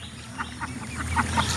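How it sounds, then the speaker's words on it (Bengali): Ducks, just let out after rain, quack in a series of short, rapid calls over a low background hum. The calls are fairly close and of moderate loudness. "হাঁসগুলো একটু ছাড়লাম"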